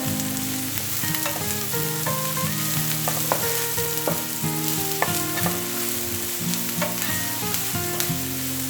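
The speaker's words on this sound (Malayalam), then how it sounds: "മുളക് വഴന്ന് വന്നിട്ടുണ്ട്" Chillies sauté in a pan for a potato omelette, a loud, dense and unbroken sizzle with scattered stirring clicks, accompanied throughout by steady sustained tones in the background and no talking.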